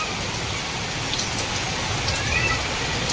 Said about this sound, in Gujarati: કેટલો વરસાદ, નદી આવી ગઈ